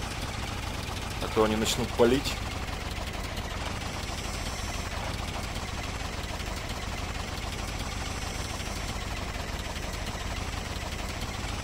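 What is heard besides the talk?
car engine running in video game STALKER OGSE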